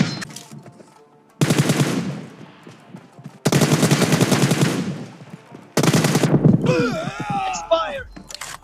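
Automatic gunfire in a team deathmatch shooter video game comes in three loud bursts separated by brief pauses. A short groaning, sweeping game effect follows at the end.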